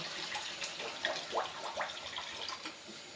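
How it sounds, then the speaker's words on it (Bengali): Water poured into a rohu fish curry with mustard sauce simmering in a pan: a faint, brief splashing and gurgling pour over a low background hiss, with no voices. "এবার আমি জল দিয়ে দেবো প্রয়োজন মতো"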